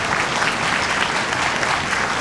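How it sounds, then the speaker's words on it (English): Audience applause at a high school spring orchestra concert, loud and dense clapping from a full hall, steady and continuous with no talking. "Give him a big applause."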